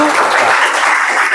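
Classroom applause, a brief, loud burst of many hands clapping steadily together, close and with no talking over it.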